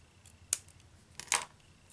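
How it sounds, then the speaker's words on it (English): Scissors snip through excess ribbon on a two-tone bow, two quick crisp cuts about a second apart, close and fairly quiet. "this is where you want to cut what you don't need"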